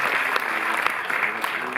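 Applause fills a Paris Cinémathèque hall at the opening of a Claude Miller retrospective, a steady, full round of clapping from a seated crowd, with a faint voice underneath.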